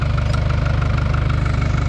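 A New Holland tractor engine runs steadily up close, a loud, even low-pitched throb with a fast regular pulse throughout the short stretch and no talking.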